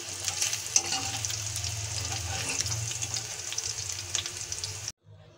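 Fried chicken lifted out of hot oil, a steady crackling sizzle with a low hum underneath and occasional clinks, cutting off abruptly near the end.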